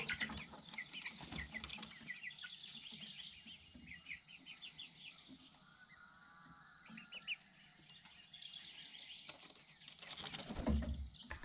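Chickens cluck and call near their coop in an outdoor farm setting, with a steady run of bird calls and low background noise and no talk.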